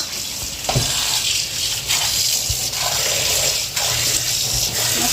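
Water pours in a steady, hissing stream at a home kitchen, running continuously with a few small knocks and clinks along the way, with no talking heard.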